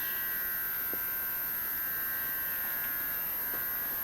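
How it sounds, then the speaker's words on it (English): An old Sioux valve grinder machine in an auto shop runs with a steady, high-pitched electric whine and buzz, constant and close, with a few faint ticks in the background. "So you got an old Sioux valve grinder."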